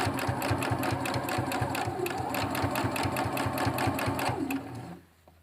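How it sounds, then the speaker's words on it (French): A sewing machine runs fast and close, stitching fabric for a cloth face mask with a rapid, even mechanical clatter before stopping abruptly near the end. "Donc, je vais piquer mon aiguille là."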